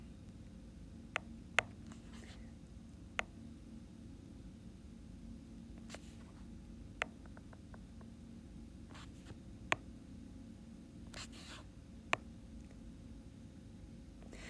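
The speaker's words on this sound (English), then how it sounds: "So basically, you just use your tracing paper to draw this shape here." A pen draws on tracing paper in a quiet room, making soft scratchy strokes with several sharp taps as the pen meets or lifts off the sheet, spaced irregularly.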